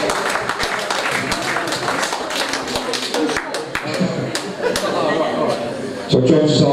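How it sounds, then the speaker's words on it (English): A crowd at a local Swindon fight club applauds boxer Darren Jones with scattered, sharp claps and taps running steadily under loud nearby talking and some chuckling. "So this is another round of applause for Darren Jones."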